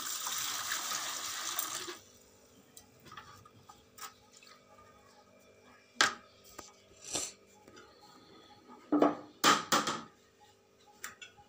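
Hot water splashes briefly into a container for an elderly father's tooth brushing, followed by a scatter of scattered clinks and taps in a quiet room.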